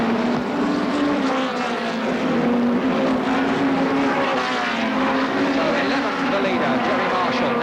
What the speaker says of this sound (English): Gerry Marshall now being rapidly overhauled by the 121 and 128 cars, closing right in